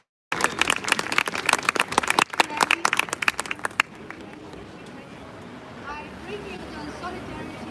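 A crowd at a street rally outside the British consulate in New York claps in a sharp, scattered burst that fades after a few seconds into open-air background noise and faint voices.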